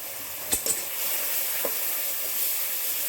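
Onion paste, ginger paste, turmeric and salt fry as a spice masala for a prawn and hilsa dish, giving a steady broadband sizzle with a few sharp spoon clicks early on.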